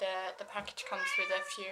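A house cat meows close by, its repeated cries overlapping a person talking through most of the moment during a package unboxing at home.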